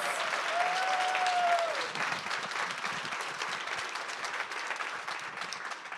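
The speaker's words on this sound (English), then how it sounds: "Give our 4 panelists one more round of applause." An audience applauds four panelists at a talk on lived experience, a full steady wash of clapping that stays loud and even throughout, with a brief tonal whistle-like sound near the start.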